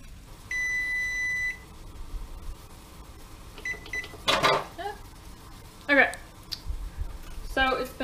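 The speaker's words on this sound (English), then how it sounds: "Kitchen timer." A steady electronic kitchen timer beep sounds for about a second, followed by scattered clicks, short bursts of beeping and some talking nearby.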